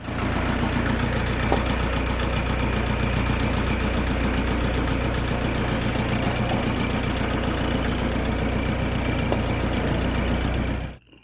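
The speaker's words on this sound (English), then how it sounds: "let's get the tractor out of here real quick." A tractor engine idling steadily with a low, rumbling drone for several seconds, then cutting off abruptly at the end.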